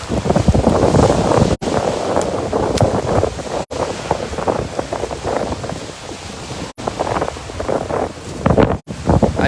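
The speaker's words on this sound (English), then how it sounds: "I'm not sure if it will be good sound for you to listen to with the wind" Strong wind buffeting a microphone outdoors on a morning overlooking Syria and Jordan, a loud constant rushing roar with gusty fluctuations and a few sharp dropouts, no speech.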